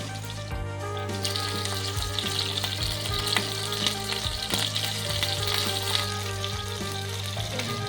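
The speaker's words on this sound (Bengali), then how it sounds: "তেলটা গরম হয়ে গেছে, ফুলকপিগুলো দিয়ে দিচ্ছি। একটু লালচে করে ভাজতে হবে।" Cauliflower pieces fry in hot oil, giving a loud, steady close sizzle with bursts of crackling and occasional stirring scrapes throughout, with no voice over it.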